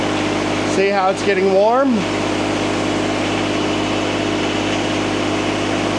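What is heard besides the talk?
Yanmar diesel-powered machine engine running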